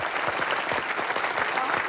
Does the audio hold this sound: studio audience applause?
yes